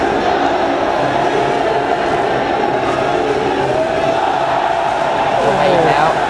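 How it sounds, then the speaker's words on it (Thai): A packed crowd at a Muay Thai fight roars and cheers loudly and continuously, a dense, steady wall of shouting voices with a few rising calls near the end. "นี่ครับเสียงเชียร์ยังมีครับ"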